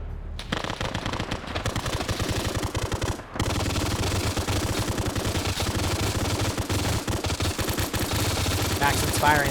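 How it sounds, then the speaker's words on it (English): A machine gun fires rapidly and without letup in a military video game convoy ambush. The loud, dense bursts carry over other game noise, with a short break near the start. "firing so fast the tracer script can't keep up with it"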